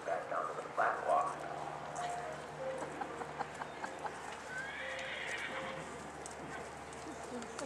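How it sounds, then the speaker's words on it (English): Horses flat walking at a horse show, soft clip-clop of hooves with a neigh near the start, amid faint background voices and ambient arena noise. "Bring your horses back down to the flat walk."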